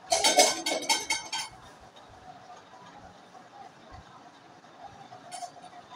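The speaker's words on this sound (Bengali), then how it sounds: "হলুদ নুন দিয়ে কড়াইটা আবার একটু নাড়িয়ে দিলাম" A metal spatula scrapes and clinks in a wok of hot oil as turmeric and salt are stirred in for a Bengali fish curry. A quick run of loud scraping strokes opens, then only faint kitchen background remains.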